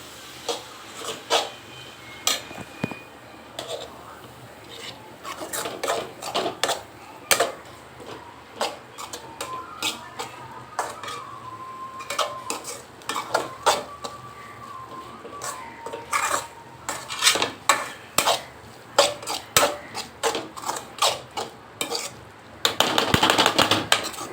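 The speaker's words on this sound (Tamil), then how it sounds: "ஸோ லைட்டாக எண்ணெய் விட்டுட்டு நல்லா வந்து கிண்டிக்கலாம்." Bread manchurian being stirred in a pan with a little oil, producing frequent sharp clicks and taps of a utensil against the pan in an uneven rhythm, close and fairly clear.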